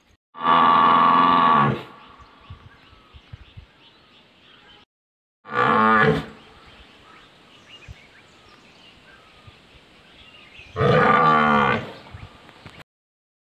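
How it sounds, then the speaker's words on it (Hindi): A water buffalo on a hillside farm bellows loudly three times, each long drawn-out call a couple of seconds long, separated by quiet gaps with faint background sound. "इसलिए बहुत ही ज़्यादा शोर मचा रहा है भैंस"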